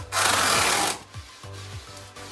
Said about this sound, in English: You can hear how sticky that is, so it's definitely pulling off loose hairs